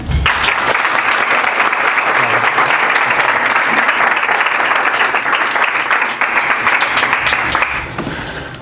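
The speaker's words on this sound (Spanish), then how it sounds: "vamos a recibirlos con un aplauso" An audience at a talk on culture breaks into sustained applause, a dense, even wash of many hands clapping that lasts for several seconds before tapering off.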